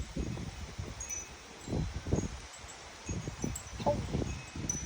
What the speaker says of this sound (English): it's windy out here. I feel like I'm in a hurricane.